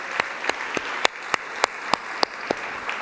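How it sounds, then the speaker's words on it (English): Conference audience applauds the lighting tech team, heard as evenly spaced sharp claps standing out over a softer, continuous wash of clapping. "So let's give them a round of applause."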